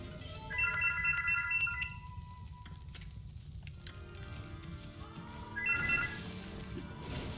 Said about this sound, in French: Désolé du coup pour les bruits de téléphone.